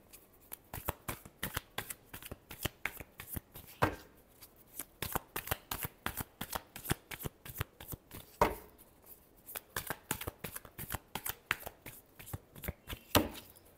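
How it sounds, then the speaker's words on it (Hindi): Playing cards are shuffled by hand at close range, a long run of soft, quick riffling flutters and taps, repeated many times with a few louder slaps as the deck is squared. "Last shuffle."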